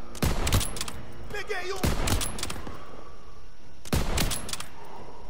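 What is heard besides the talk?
gunfire at turrets in the video game Call of Duty WW2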